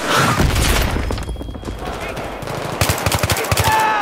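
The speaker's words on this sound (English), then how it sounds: "The fighting is intense as bullets snap through the air, explosions topple walls" Battlefield 3 combat plays loud and close: rapid bursts of machine-gun fire crack over booming explosions and thuds, with dense, chaotic volleys continuing throughout.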